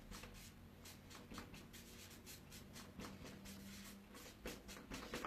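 A pen scratches steadily across paper in quick handwritten strokes, faint and close, with small shuffling rubs between words.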